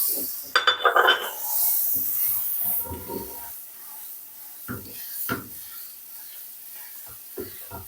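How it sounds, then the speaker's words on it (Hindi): Butter hits a hot pan to start the tempering for sarson ka saag, giving a short burst of sizzling. It settles into quieter crackles with a few scattered clinks and stirring scrapes. "सबसे पहले मैं एक पैन में ये मक्खन शामिल करूंगी।"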